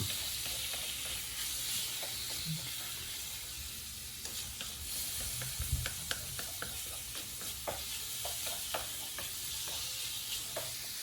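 Steady, close sizzling of meat frying in a pan, a continuous crackling hiss with small pops and occasional scraping or stirring sounds, no voices.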